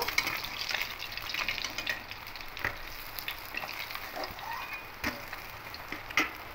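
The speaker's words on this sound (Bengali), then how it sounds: "মাছগুলো খুব ভালো লাল করে ভাজা হয়ে গেছে, এটা তুলে নেব।" Small rohu-type fish frying in oil in a pan give a steady, moderate sizzle with intermittent crackles and a few sharp clinks of a utensil, close by and with no speech.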